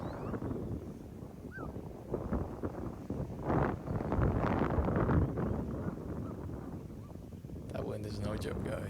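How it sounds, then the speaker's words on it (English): Strong wind buffets the microphone on an open disc golf course at a tournament round, a continuous rough rumble that swells and eases while people talk over it. "That wind is no joke, guys."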